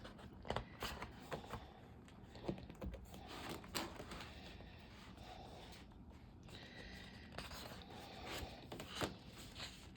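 Sheets of a thick paper pad are flipped one after another, giving soft crisp rustles and papery flicks at an uneven pace, close by and fairly quiet.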